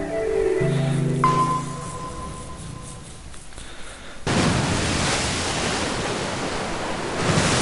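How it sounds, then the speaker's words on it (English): A wall of water floods a room in the video game 9 Hours 9 Persons 9 Doors, bursting in as a sudden loud, sustained rushing roar after a few softer electronic tones. "Accompanied by a wall of angry water"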